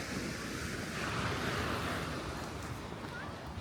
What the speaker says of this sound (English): these waves were a lot rougher this morning when we came through here